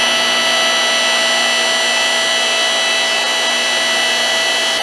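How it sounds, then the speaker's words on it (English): A DR 4 ton electric log splitter's motor runs in a constant, steady whine with a strong hum, loud and close, unchanging from start to finish with no voices. "And we're going to turn the motor on"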